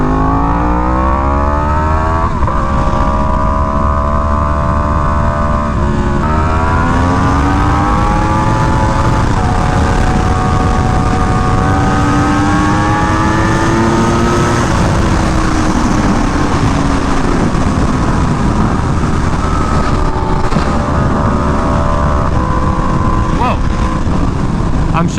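A Yamaha R1M motorcycle ridden at speed, its engine whine rising steadily through each gear then dropping sharply at every shift, loud and close over heavy wind noise, with a rider talking over it.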